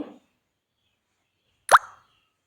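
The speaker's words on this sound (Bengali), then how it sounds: "আমি এখানে বড় সাইজের একটা টমেটো বেটে নিয়েছিলাম, ওই টমেটোটা দিয়ে দিচ্ছি।" Ground tomato paste dropped into a pan of soybean curry lands with a single short, wet plop against near silence.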